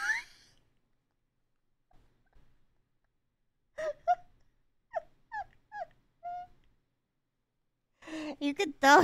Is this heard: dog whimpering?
yes